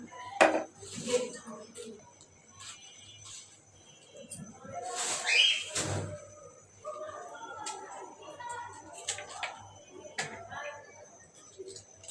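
Cauliflower and radish being cut in a kitchen: scattered knife taps and clinks against a board or dish, with a louder burst of rustling and clatter near the middle, otherwise quiet and close.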